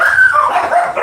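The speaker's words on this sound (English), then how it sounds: "What are you guys barking at?" Dogs bark and yip in a quick excited burst, close and loud, with whimpering high tones and no talking.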